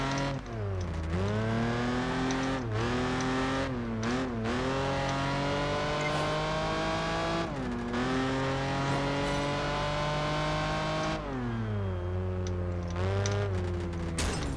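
A race car engine in Project Gotham Racing 4 revs hard and loud, climbing through the gears with repeated sharp drops as it shifts, then winding back up again and again, with no talk over it.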